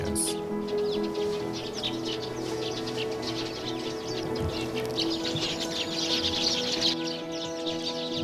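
Small birds chirp and twitter continuously, overlapping calls from a busy flock of house sparrows in Korea, close and lively throughout with a steady hum of other outdoor sound beneath.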